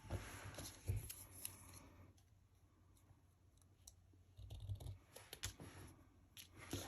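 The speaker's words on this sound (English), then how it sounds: "Get my scissors." Scissors snip through paper while cutting out butterfly shapes for a craft, a run of close, crisp clicks and rustles at first, a quieter pause, then more snipping and paper handling.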